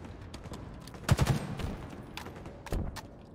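Gunfire in a shooting video game: a quick burst of several sharp shots, then a pause and a few more isolated cracks. The shots are moderately loud over a low background hum.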